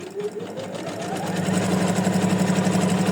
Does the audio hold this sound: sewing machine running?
yes